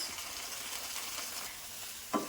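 An onion and tomato mixture stirred in a pan on the stove, a steady soft sizzle with faint scraping underneath and a single brief clink near the end.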